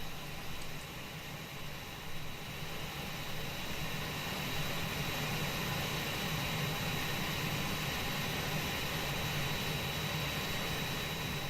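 Steady, even engine hum of an Airbus A320 in a flight simulator, a constant broadband whine with a thin high tone running throughout, no talk and no change in level.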